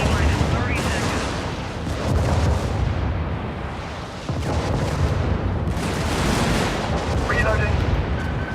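Heavy incoming weapons fire and booming explosions in a video game battle, a dense, loud roar of gunfire and blasts with a short lull midway, overlaid by speech.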